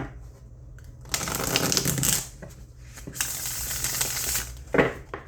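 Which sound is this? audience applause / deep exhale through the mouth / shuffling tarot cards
shuffling tarot cards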